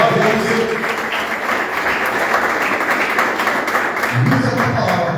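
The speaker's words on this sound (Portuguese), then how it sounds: "Aplauda o seu bem forte." A church congregation applauds loudly, sustained, close and dense clapping that fills the room and keeps an even intensity throughout.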